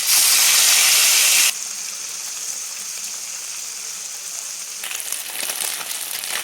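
Fish fries in hot oil in a kadai, a loud bright hiss that drops abruptly to a steady softer sizzle and then swells again near the end.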